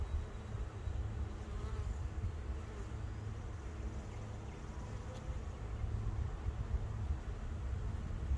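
Honey bees drone in a steady, dense buzz around an open hive as it is split, a close, continuous hum that fills the whole stretch with no talking.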